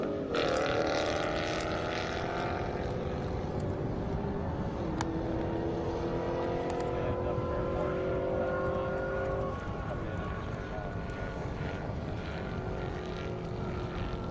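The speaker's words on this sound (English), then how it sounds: "Takes a lot more horsepower to throw these Mustangs down the half mile than it does a Corvette or some of the Camaros." A Mustang race car launches down a half-mile airstrip at a racing event, its engine rising in a long climbing roar with shifting tones, steady and fairly loud from start to finish.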